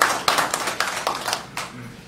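Brief scattered clapping from a small group honoring a U.S. Army veteran at a Rockfish community meeting, a handful of sharp claps that taper off.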